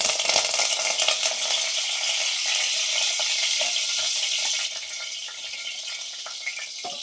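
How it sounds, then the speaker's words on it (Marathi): Curry leaves and cumin seeds crackle and sizzle in hot oil in a very hot steel kadhai, a loud, dense frying hiss close by that eases slightly partway through, with no talking. "दोन चार कडपत्त्याची पानं टाकली"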